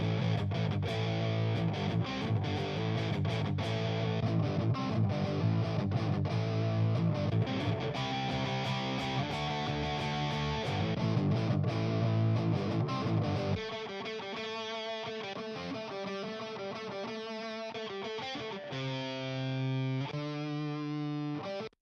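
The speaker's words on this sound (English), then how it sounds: "we've got all the darker sounding, heavier, thicker sounding guitar tones" Heavy, thick, dark-toned distorted electric guitar tracks played solo, loud and dense, shifting partway through to a brighter, more sustained chordal guitar part, with no voices.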